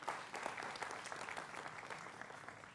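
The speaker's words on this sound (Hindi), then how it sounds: "जोरदार तालियों के साथ उनका अभिनंदन है" A studio audience on a televised Hindi political debate show claps in a fairly faint but steady round of applause that tapers slightly toward the end, with no voices over it.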